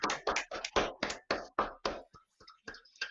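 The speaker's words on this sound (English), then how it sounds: "we'll clap to bring Paul back in" A small group of people claps in a quick burst of about ten sharp, distinct hand claps nearby, then a few softer, scattered claps trail off.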